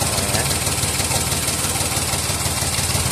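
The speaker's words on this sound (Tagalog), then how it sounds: "Palyado itong makina." A Toyota Wigo engine idles with a misfire traced to a faulty spark plug, giving a steady, close, uneven rumble that runs without a break and with no talk over it.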